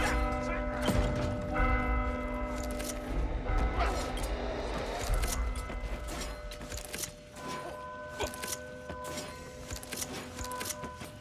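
Bell ringing in Warhammer Vermintide, struck repeatedly amid a busy game scene with clanking, crashing and mechanical clatter, loud throughout with a voice briefly audible.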